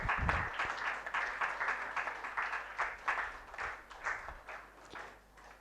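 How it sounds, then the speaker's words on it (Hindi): A book release audience claps moderately and evenly for several seconds, a soft, slightly distant patter of many hands with no speech over it. "ज़ोरदार तालियों के साथ हम बुलाते हैं आदरणीय प्रकृति प्रसन्न ओझा जी को"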